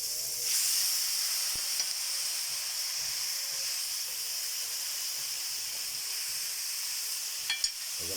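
Chopped meat dropped into a pan with sautéed ginger, garlic and onion sizzles steadily and loudly, a constant frying hiss that runs the whole time, with a couple of small utensil clicks near the end.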